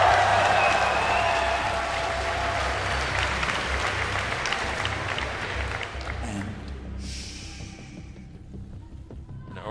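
A large esports crowd at a StarCraft championship final cheers and applauds for a player, a loud roaring wash that gradually fades over several seconds as a voice begins speaking.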